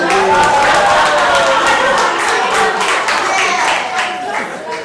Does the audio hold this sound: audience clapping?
yes